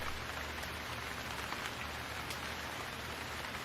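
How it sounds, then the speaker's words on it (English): Steady rain falls at night on a quiet country lane, a soft, even hiss of droplets pattering on the road and puddles, faint and continuous without any voices. "Rain tumbles down from night skies on the quiet country lane, droplets landing on the road with the sound of a pitter-patter around you"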